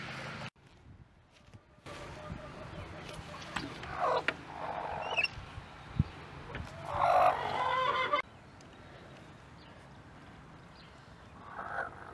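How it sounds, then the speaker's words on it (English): Chickens in a backyard coop, with squawks, honk-like calls and clucks in irregular bursts over a steady rustling background, fairly close, with no talking. "would you like to come to the chicken coop with me?"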